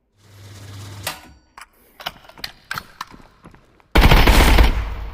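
A 5.56x45 rifle fires in the video game Contractors, with a quick string of sharp, close shots and mechanical clacks before a loud, sustained roar of fire bursts in near the end.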